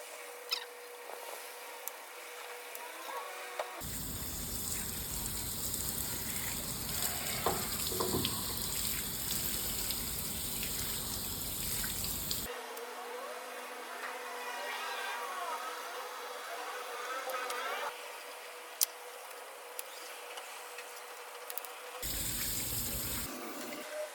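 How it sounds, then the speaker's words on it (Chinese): Water spray hoses down an old car body during restoration, a broad hissing rush that starts and stops in long bursts, close and loud, alone without talk. "接着洗车身，一尘不染才能进气房。"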